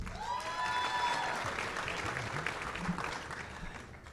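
Steady applause from a large audience at a coastal regional symposium, with some whistles and cheers rising at the start, holding dense and even for several seconds before slowly thinning.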